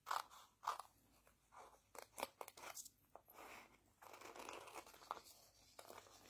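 Quick snips of small metal craft scissors cutting through paper for a botanical stamped card project: a scattered series of crisp, quiet clips with short pauses between, heard alone without talk.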